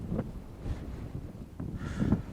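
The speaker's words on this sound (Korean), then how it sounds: "바람이 지금 저쪽에서 이렇게 불거든요" Wind blowing across an open roadside tent spot in Mongolia, a steady low rumbling buffet with gusts swelling and easing, close to the microphone and with no voices.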